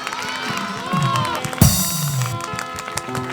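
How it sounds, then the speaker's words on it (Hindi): A church congregation at a Hindi worship service claps and cheers in a loud, busy burst, voices rising and falling through the clapping with a sharp peak midway. "आपकी तालियों की गड़गड़ाहट इतनी होनी चाहिए कि आसमान के झरोखे खुल जाएं"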